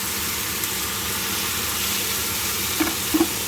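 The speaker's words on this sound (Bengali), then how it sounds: "চানাটা দিয়ে এইবার নাড়বো" Boiled chickpeas are stirred with tempering spices in a pan under a constant hiss of frying, with a couple of soft utensil knocks near the end.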